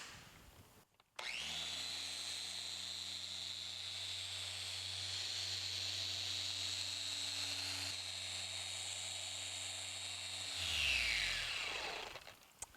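A Porter Cable 7424XP dual-action polisher buffs car paint with a V38 polishing step, a steady loud whirring drone that starts abruptly, holds constant, then winds down as the machine is switched off near the end.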